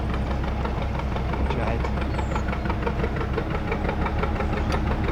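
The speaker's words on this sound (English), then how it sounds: "You just can't beat the sound of these boats." A narrowboat's engine runs on the Llangollen Canal with a steady, close, low knocking thump at idle, continuous and even.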